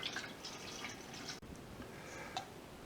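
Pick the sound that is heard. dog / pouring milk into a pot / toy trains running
pouring milk into a pot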